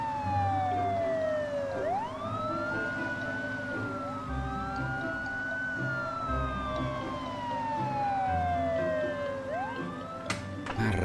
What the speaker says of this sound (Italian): e la macchina della polizia